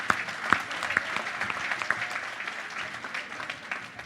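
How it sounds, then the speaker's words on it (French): An audience at a company general assembly applauds steadily at a moderate distance, a dense wash of clapping with a few sharper individual claps near the start and no talk over it. "Ça s'applaudit"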